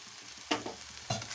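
Fish masala with salt, sugar and a splash of water being stirred and sautéed in a pan, a low frying sizzle broken by two distinct spatula scrapes.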